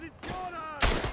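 A rifle shot fires in the Verdun World War I video game, a sudden loud broadband blast near the end that follows a stretch of quieter tonal game sound and rings out briefly.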